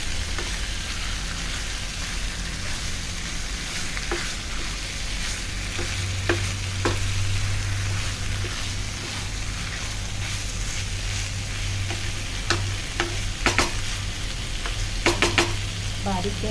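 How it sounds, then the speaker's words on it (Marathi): Chicken with cashews being sautéed in masala, a continuous close sizzle with a low hum, spoon scrapes and metallic taps scattered through, clusters of clinks toward the end. "याला आपण छान असं मसाल्यामध्ये परतून पहिलं घ्यायचं आहे"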